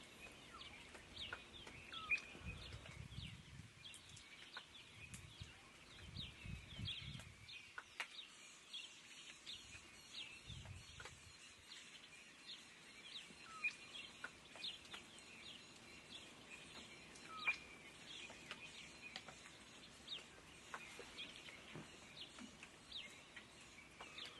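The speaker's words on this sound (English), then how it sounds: "So what we're hearing now is the morning chorus." A dawn chorus of birds calling and chirping over steady background ambience on a South African game reserve, with many overlapping calls near and far and a low rumble early on.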